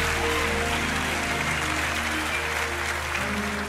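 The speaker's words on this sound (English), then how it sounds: "let's give our fathers another round of applause, love, and appreciation" Congregation in a church service applauding fathers on Father's Day, a steady dense wash of clapping from a large room, sustained and even throughout with low hum beneath.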